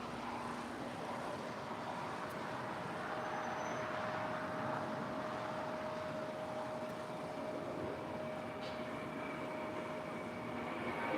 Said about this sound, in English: I also have a Western Global MD-11 now pushing back.